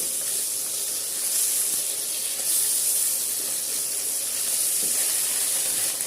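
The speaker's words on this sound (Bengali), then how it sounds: "মাছগুলো দিয়ে একটু ঢেকে দিলাম তেল ছিটে আসছে" Steady, loud hiss of small bacha fish frying in oil under a lid, oil splattering, with a broad spitting sizzle running unbroken throughout and no voices.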